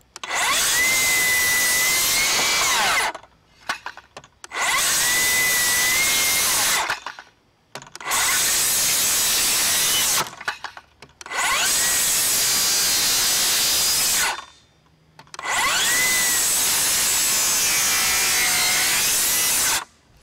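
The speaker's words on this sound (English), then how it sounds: "We're going to cut through some treated 4x4." Milwaukee M18 cordless rear handle circular saw cutting through treated 4x4 lumber, five loud whining cuts of two to three seconds each, separated by brief pauses, close up.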